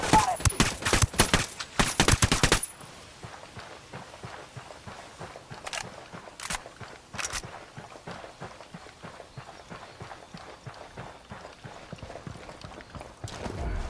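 Rapid enemy gunfire in the tactical shooter Ghost Recon Wildlands: dense, loud bursts of automatic fire at the start, then scattered shots and a steady patter of running footsteps and movement.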